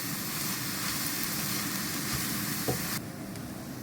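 Red chili powder mixture sautéing in a pan for a green tomato and dried prawn stir-fry, a steady broadband sizzle throughout that thins out near the end.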